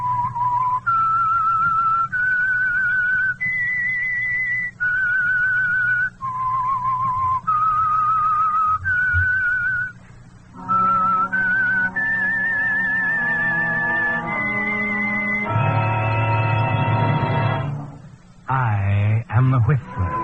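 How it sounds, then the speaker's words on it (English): Whistled melody, the opening theme of the old radio drama The Whistler sponsored by Signal Oil, with a clear rising and falling tune over orchestral backing that swells in the last seconds. "That whistle is your signal for the Signal Oil Program"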